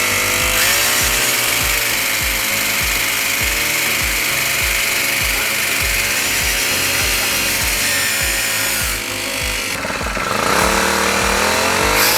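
A 4-stroke 50cc brush cutter runs loud and close at a steady high-revving drone, with a brief dip and change in pitch near the end.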